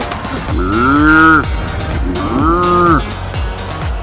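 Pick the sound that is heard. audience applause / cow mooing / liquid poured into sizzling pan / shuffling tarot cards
cow mooing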